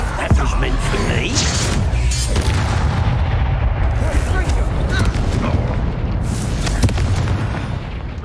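Confringo blasting spells explode during a Hogwarts Legacy duel, heavy booms and blasts rolling almost without pause, with a character speaking over the din.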